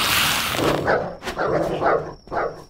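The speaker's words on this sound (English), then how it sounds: "Oh my god, there's a dog!" A dog in the zombie survival game Dysmantle lets out several loud, close barks and yips in quick succession, with growling, whimpering tones between them.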